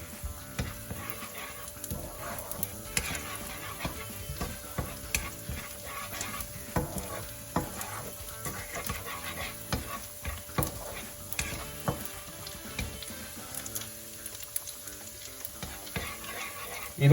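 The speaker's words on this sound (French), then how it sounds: "vous pouvez recommencer à faire revenir vos échalotes tout doucement" Shallots sizzle gently in a pan for risotto while a spoon stirs them, the soft frying hiss running steadily beneath frequent scraping, clicking strokes near at hand, with no voices.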